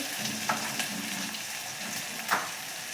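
Chili powder hits hot oil in a pan over sautéed tomatoes for a Gujarati sweet-and-sour dal, giving a constant close fry and sizzle with a couple of sharp stirring scrapes and no voices.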